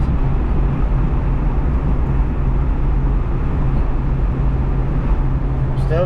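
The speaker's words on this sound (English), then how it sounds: "Now I'm going to downshift." A car engine with a vacuum leak pulls up a hill at about 60 mph after a downshift from fifth gear. It makes a loud, steady, low drone that holds without a break throughout.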